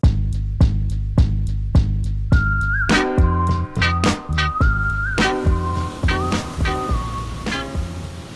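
Whistled melody from an upbeat song, loud and sustained over a steady punchy drum beat, with horns joining partway through.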